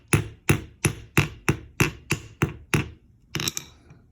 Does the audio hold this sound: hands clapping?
no